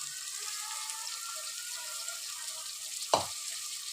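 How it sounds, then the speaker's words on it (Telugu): Onions dropped into hot oil for a mutton masala curry give a steady, close sizzle and hiss throughout, with one brief louder clatter near the end. "ఇప్పుడు వేస్తున్నాను ఆనియన్స్ మంచిగా గోల్డెన్ కలర్ వచ్చే వరకు మనం మంచిగా ఫ్రై చేసుకోవాలి"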